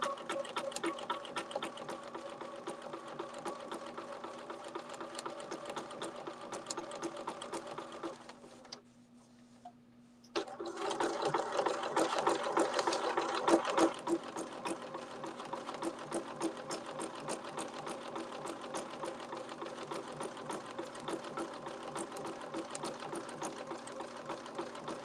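A sewing machine stitches free motion appliqué in a fast, steady, close mechanical whir. It pauses briefly midway, then resumes a little louder before settling back to its even run.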